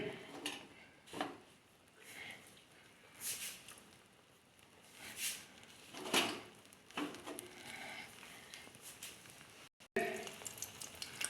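An egg frying in a pan for breakfast: a low, steady sizzle broken by repeated swelling bursts of scraping and stirring, with faint talk underneath.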